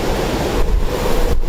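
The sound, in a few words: storm with torrential rain and gale force winds in Sydney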